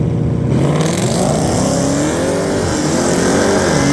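A loud Dodge Challenger Hellcat Redeye engine roars up hard through rising revs as it launches at a drag strip, a powerful continuous acceleration close by.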